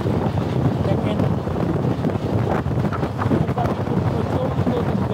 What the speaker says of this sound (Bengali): বৃষ্টির সাথে সাথে বাতাস হচ্ছে